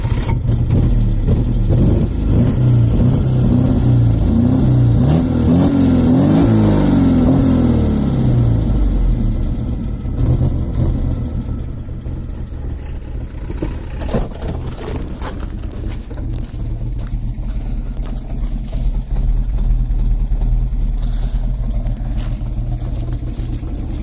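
A 1984 Alfa Romeo Giulietta 116 engine revs and accelerates with a loud, continuous exhaust roar, rising in pitch early on and then droning on steadily, heard close up throughout with no talking.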